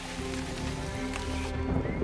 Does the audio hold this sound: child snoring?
no